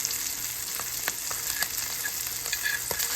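Ribeye steak searing in butter in a hot pan, a steady close crackling sizzle with scattered sharper pops and spits throughout, no talking.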